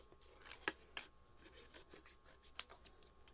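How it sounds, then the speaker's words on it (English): Scissors snip through paper while fussy cutting small beehive shapes for a bee card, a few quiet, close, irregular clicks and soft rustles. "now we're going to fussy cut our little beehives here"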